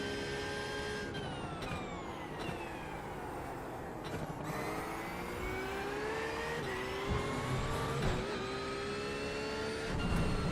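A Porsche GT3 race car at Brands Hatch revs hard and loud through several gear changes, its pitch climbing and dropping with each shift as it accelerates. No voices are heard.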